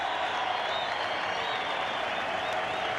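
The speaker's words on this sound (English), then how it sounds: "Get a big roar from the crowd. Standing ovation for Clifford as he comes off." A dense, steady roar of crowd applause and cheering fills a college basketball arena during a standing ovation for a departing player, loud and continuous throughout.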